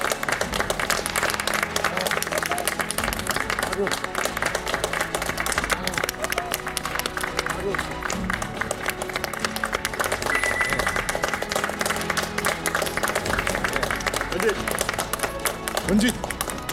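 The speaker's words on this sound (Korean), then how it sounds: "여러분 큰 박수로 맞이해 주십시오" Studio audience applause on a Korean TV talk show as two soldiers are welcomed onstage, a steady dense wash of clapping sustained for the whole stretch, loud and continuous with music underneath.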